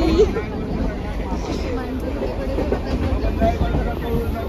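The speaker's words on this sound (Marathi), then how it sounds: "आता मी गोरेगावला आलो. ट्रेन आली आहे जस्ट." A train rumbles and rattles steadily as it arrives at Goregaon station, with loud crowd babble and voices mixed over the rolling noise.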